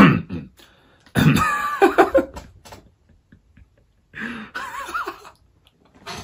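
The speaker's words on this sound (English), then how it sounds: "Just had to clear my throat there for a second." A man clears his throat in a few rough, raspy bursts close to the microphone, separated by short silences.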